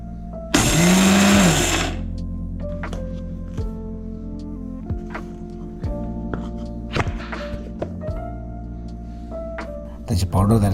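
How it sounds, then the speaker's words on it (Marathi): Mixer grinder grinding roasted, crunchy peanuts into powder, a loud whirring burst of about a second and a half, followed by clattering and knocks against a steady background hum. "नंतर मी मिक्सरमध्ये त्याला बारीक केलं आहे"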